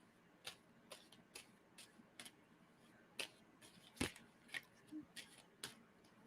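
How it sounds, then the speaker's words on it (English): Playing cards being shuffled in repeated quick riffling bursts, fairly quiet and close, with sharp clicky snaps between pauses and no talk over them. "And tell me when I should stop shuffling on that."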